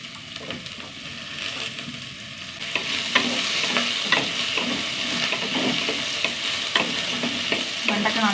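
Okra being sautéed with browned onions in a pan, a steady sizzle under repeated scraping stirs of a spoon that grow busier and louder halfway through, close by with no voices.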